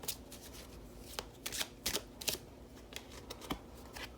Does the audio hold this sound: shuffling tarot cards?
yes